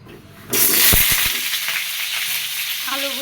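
Potatoes dropped into hot oil set off a loud sudden sizzle that rises at once and then settles into a steady, close frying hiss.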